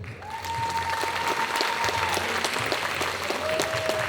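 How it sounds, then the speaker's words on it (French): At the Carolo Game Show 2020 cosplay parade, a crowd applauds a cosplayer on stage with steady, dense clapping that fills the hall, while a faint sustained tone hangs underneath. "Vous pouvez l'applaudir."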